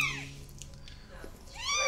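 A kitten taped down on a veterinary X-ray table gives a plaintive meow at the start and another at the end, close and fairly clear, with quieter clinic noise between.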